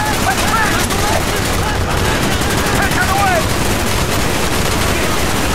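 Sustained automatic gunfire from a Call of Duty Black Ops battle, a dense, continuous rattle of shots at steady loudness with no pause, and faint voices mixed underneath.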